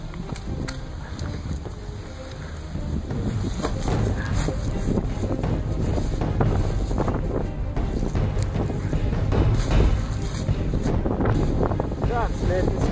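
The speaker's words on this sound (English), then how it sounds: "This wind is a sniper's nightmare." A cold wind blows in a video game setting, a steady, full roar of gusting air buffeting the microphone with faint higher rustle, continuous and close throughout.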